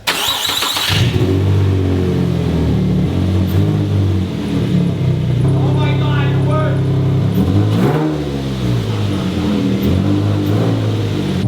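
A junkyard Nissan 350Z is cold-started, with a strong engine burst at the start, a steady loud idle, then rising revs around the midpoint and again later. Voices talk over the running engine.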